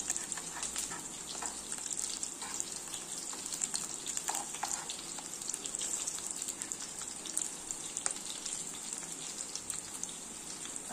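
Colocasia leaf rolls (alu vadi) roasting on a tava griddle until golden brown, a continuous soft hiss of sizzling oil with faint crackles and occasional light taps, steady and close, no speech.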